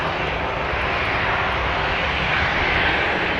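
Airplane making a low flyby at Phuket Airport: a loud, steady roar of jet engines overhead, broad and unbroken throughout, with a faint rising whine near the end and no talking.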